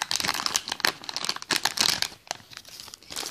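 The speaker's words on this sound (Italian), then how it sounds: "apriamo questa bustina" A plastic blind bag packet of small collectible figures is torn open and crumpled by hand, giving loud, continuous crinkling and tearing close up, with no voice over it.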